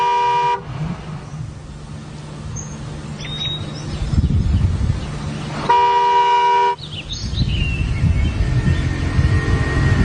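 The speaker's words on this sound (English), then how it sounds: "stay in the car and honk my horn until somebody came to fetch me" Two long, steady car horn honks ring out from a car parked while waiting to be fetched, the first lasting about five seconds and the second about a second, over a low idling rumble with occasional bird chirps.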